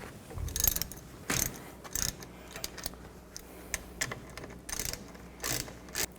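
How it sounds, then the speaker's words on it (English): A ratchet fitted with an 18mm socket works a bolt loose on a 1999-07 Chevy Silverado 2500 parking brake lever, giving bursts of close, rapid metallic clicking separated by short pauses, with no talk. "Take these two bolts off on the back here, use a 18mm socket."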